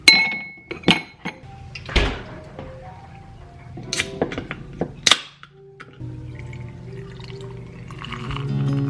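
Glass and hard objects clink and tap in a kitchen while preparing a drink in a wine glass, several sharp separate knocks and chimes followed by a softer clatter and pouring, close and fairly loud with no talk.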